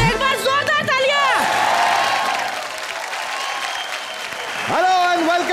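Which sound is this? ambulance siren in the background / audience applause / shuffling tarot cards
audience applause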